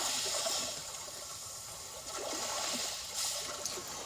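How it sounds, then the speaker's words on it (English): Calm ocean waves play from a Hyundai Tucson 2021's built-in Sounds of Nature app: a soft, continuous wash of water with gentle swells, faint and steady throughout. "you can listen to calm ocean waves"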